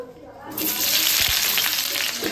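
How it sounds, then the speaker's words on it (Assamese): Onions drop into hot oil and a loud, bright sizzle bursts up and continues steadily, close by, with a few clinks of stirring. "এয়া এতিয়া পিঁয়াজ দিব লৈছোঁ তেলত"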